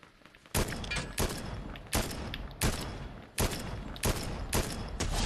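Loud bursts of gunfire in a Fortnite battle erupt roughly every second, sharp repeated volleys with a busy crackling wash sustained between them, no voices present.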